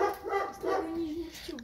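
A big dog barks and whines in a few short, close bursts, ending in a drawn-out whimpering tone, with voices faintly mixed in.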